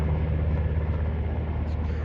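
A helicopter flies over a lightning-sparked wildfire in Arizona with water gear slung underneath, its steady low rotor and engine rumble droning continuously at a moderate distance.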